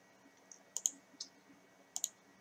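Computer mouse clicks on a Windows taskbar: several crisp, close clicks, some in quick pairs, spaced over a quiet background with no voice.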